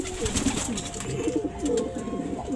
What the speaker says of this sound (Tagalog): Pakaangas na ibon.